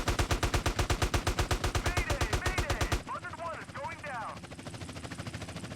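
Rapid, rhythmic bursts of automatic gunfire from GTA San Andreas, loud and sustained, then shifting to denser mixed shooting with whistling effects.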